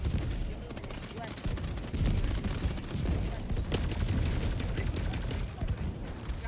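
Sustained gunfire and explosions in the video game Helldivers 2 during a fight against the Illuminate, a dense, steady barrage of rapid shots at close range with a player talking over it.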